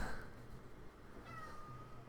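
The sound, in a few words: cat meowing angrily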